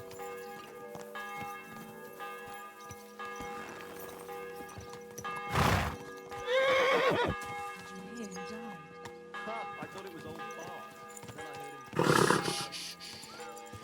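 Horses neigh loudly twice amid hoofbeats and a low, ringing musical backdrop in the video game Kingdom Come: Deliverance II, with someone speaking briefly in between.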